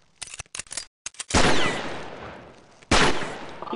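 An M4 Super 90 shotgun in a video game fires repeatedly, with several quick close blasts followed by two loud booming shots, each trailing off in a long echoing tail.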